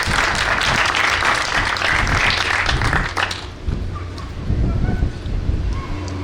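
A crowd at a children's literature gathering claps in a dense, loud burst of applause for about three seconds, then it thins into scattered, quieter clapping and faint crowd murmur.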